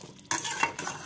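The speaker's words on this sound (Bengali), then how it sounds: "এখন মশলাটা আমি ভালো মতো মাংসের সাথে মিশিয়ে নেব" Homemade garam masala stirred into beef in a pan, heard as one brief scrape and rustle of the spoon against the sizzling meat, close and short.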